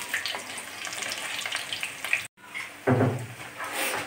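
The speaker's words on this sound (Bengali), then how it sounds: "পেঁয়াজগুলো আকার দিয়ে দিয়ে এরকম করে করে ভেজে নেব প্রত্যেকটা" Onion fritters (piyaju) coated in rice flour sizzle in hot oil in a pan, a close, steady crackling frying with a short pause and occasional stirring clatter, no one talking.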